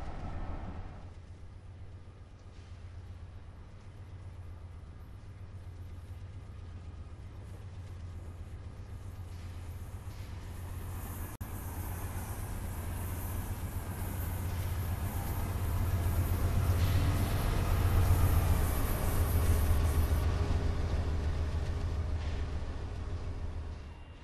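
A Metro-North train in the Train Simulator 2015 game runs with a steady low engine rumble and broadband rolling noise that slowly builds louder toward the middle and later part, continuous and without talking.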